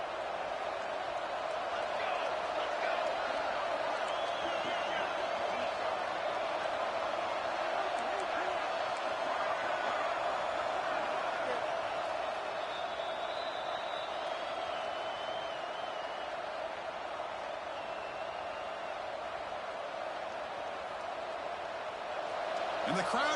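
In a college football video game, with San Diego State facing UTSA, a stadium crowd roars steadily throughout, a constant wash of cheering under a commentator's voice.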